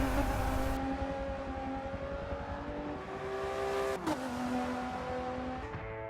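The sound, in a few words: Jaguar F-Pace and Jeep SUVs revving in quarter-mile drag race, Forza Motorsport 7 video game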